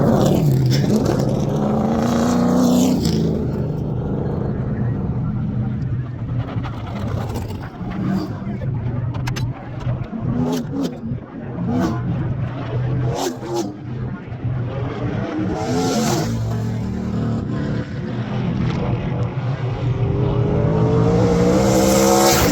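Race cars on a freshly blacktopped local track before a packed crowd, engines roaring and revving close by in a continuous loud stream, with voices talking over them.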